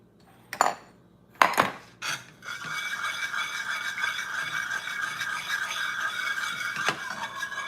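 A few sharp metal clanks against a pot, then continuous scraping and stirring of a macaroni pie mixture, close and fairly loud, with a faint squeal as the spoon drags around the pot.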